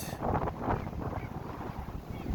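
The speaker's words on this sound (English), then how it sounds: "this wind that we're having right now" Wind blowing outdoors near a surf beach, a steady loud roar buffeting the microphone with a low rumble throughout, constant and unbroken with no speech.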